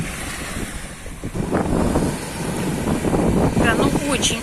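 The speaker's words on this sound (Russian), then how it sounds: "Да, очень-очень ветрено." Strong wind buffets the microphone on a Black Sea beach while surf rushes and roars continuously nearby, with voices speaking faintly beneath the gusts.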